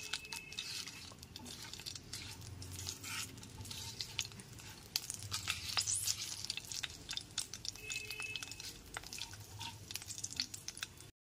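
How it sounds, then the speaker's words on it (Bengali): Whole spices (cinnamon, cardamom and cloves) fry gently in oil over a low gas flame, giving a faint, steady sizzle with occasional stirring clicks and scrapes, close by and without voices. "গ্যাসের ফ্লেমটা লোতে রেখে হালকা করে ফোড়নটা ভেজে নিতে হবে"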